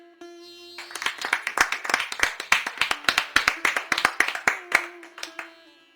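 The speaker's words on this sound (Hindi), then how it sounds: "भाषण समाप्त होते ही जोरदार तालियां बजती हैं।" Loud hand clapping breaks out as a speech ends, with a run of distinct, rhythmic claps from a small group over a held musical tone.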